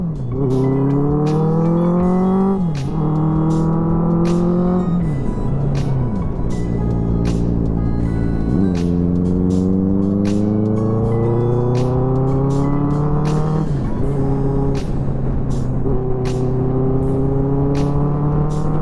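A Benelli 600i motorcycle is ridden on a short road trip, its engine whining loudly as it repeatedly revs up through the gears, dipping briefly at each of several shifts before climbing again.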